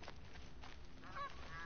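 Loud birds in Horizon Zero Dawn honk in a quick goose-like call of a few notes, sounding fairly close over a hushed ambient background.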